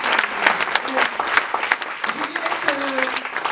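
An evening lecture audience applauds the speaker with a dense, moderately loud patter of many hands, while a voice talks over it.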